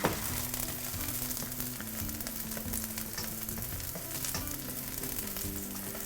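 Peppers sautéing in a pan: a steady, close, crackling sizzle continues throughout, with faint stirring and scraping under it and no voices.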